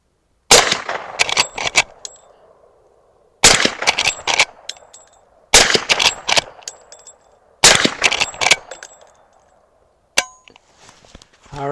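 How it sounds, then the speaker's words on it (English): Four loud suppressed 45-70 rifle shots, each followed by a sharp metallic clang and a fading ring, evenly spaced about two seconds apart, with a fainter clink at the end. "let's do a little bit more shooting"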